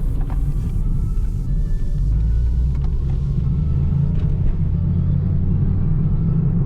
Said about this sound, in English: I need to fix that exhaust leak, man.